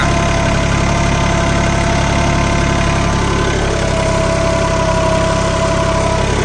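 A Swaraj Target 630 4WD mini tractor engine labouring loudly while pulling a cultivator at full depth, a dense, steady diesel rumble with knocking vibration throughout and no voices.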